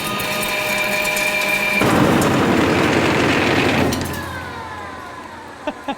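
A large, new Lion lathe spins its workpiece through an aggressive cut, giving a loud, dense roar that swells for a couple of seconds and then cuts off abruptly, leaving machine hum, a fading ring, and two brief knocks at the end.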